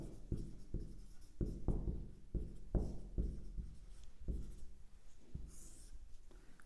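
Marker or chalk writing on a classroom board, a series of distinct, rhythmic strokes and taps, close and fairly quiet, slowing toward the end.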